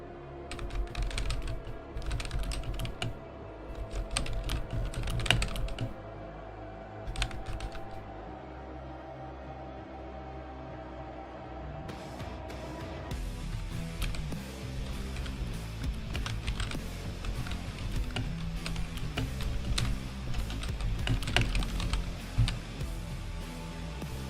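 Typing on a heavy mechanical MSI keyboard, a steady stream of clacky keystrokes in irregular bursts, close and fairly loud, continuing for the whole stretch with no speech.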